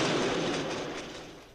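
An overground train in a Paris setting rumbles past in a broad, noisy wash that starts loud and gradually fades as it moves away, with no voices over it.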